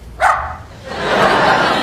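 A person in a sitcom scene imitates a dog with one short, loud bark, followed by a rising, breathy rush of noise and audience laughter.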